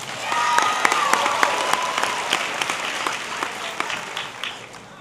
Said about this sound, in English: I want to give them a round of applause tonight.